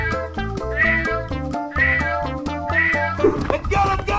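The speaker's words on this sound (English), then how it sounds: "Cat." Cartoonish cat meow in a 3D animal slide game, sounding over a busy, loud musical game soundtrack with rhythmic bass notes throughout.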